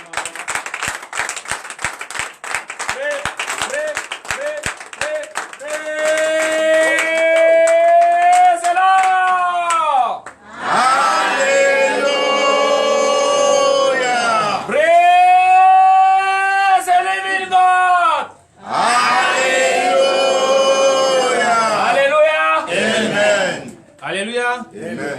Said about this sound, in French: je vous invite encore à donner une vive acclamation à l'Éternel